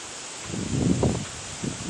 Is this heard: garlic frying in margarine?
no